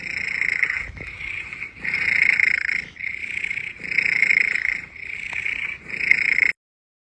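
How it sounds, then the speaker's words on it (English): A cat purring while it gets ear scratches, a steady close rhythmic rumble that swells and fades in repeated breaths, alone without talk. "when he gets ear scratches, he does actually purr."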